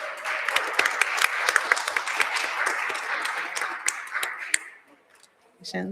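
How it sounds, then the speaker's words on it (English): A round of applause in a city council chamber during a Providence council meeting, steady clapping from the room for several seconds that tapers off, followed by a brief voice as it ends. "Round of applause, please."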